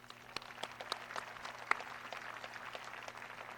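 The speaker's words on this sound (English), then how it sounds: "Please give them another round of applause." Scattered, fairly sparse clapping at a high school commencement ceremony, distinct individual claps rising above a steady background hum at a distance, relatively faint overall.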